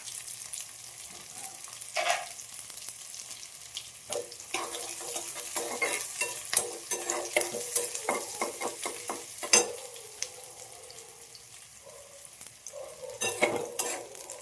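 Chopped onion and hot green chillies frying in oil in a pan, with a steady sizzle broken by repeated scraping stirs of a spoon against the metal, close and busy, no talk.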